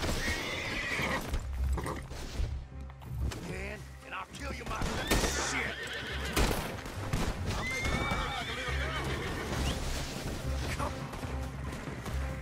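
Horse neighing and clip-clopping hooves in the Red Dead Redemption 2 video game, loud and steady over a busy game soundscape with background music and effects, whinnies recurring through the clip.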